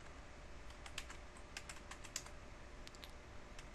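Quiet computer keyboard typing, a run of light irregular keystrokes with short pauses while a router configuration command is entered, heard alone against faint background hiss.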